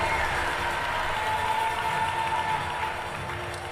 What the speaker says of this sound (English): Let's give Mrs. Davis a round of applause,